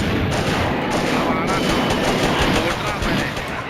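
Continuous gunfire from the Mini Militia video game runs throughout, fairly loud and dense, with people talking over it.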